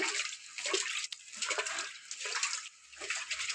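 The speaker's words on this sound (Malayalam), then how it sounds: "അമ്മ വെള്ളം തളിക്കാൻ പോവുകയാണ് കണ്ടില്ലേ" Water sprinkled by hand over spinach during cutting gives soft, splashy hissing bursts that repeat irregularly at close range, with no voices.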